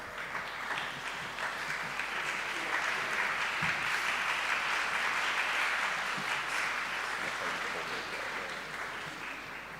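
Sustained applause fills a white coat ceremony hall, a dense steady wash of many hands clapping at moderate distance, swelling slightly mid-way and easing toward the end.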